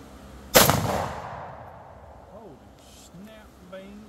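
Video game gunfire: a single loud close shot with a decaying echoing tail, followed by voices talking over game sounds.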